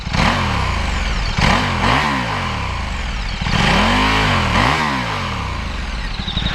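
A 2015 KTM RC8 1190R sport bike engine blips through several loud, close revs, rising and falling sharply over a steady idle, with about four distinct throttle bursts.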